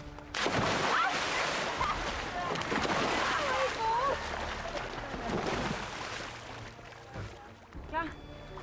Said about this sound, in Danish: De andre grupper er nemlig allerede ved at sætte deres flåder i vandet.